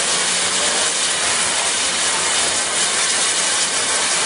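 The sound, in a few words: Santa Fe 3751 steam locomotive hissing steam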